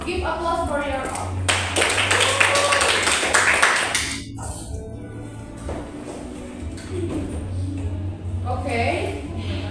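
Classroom of students applauding during a micro teaching lesson, a burst of clapping for a couple of seconds that fades under a steady hum, with people talking around it.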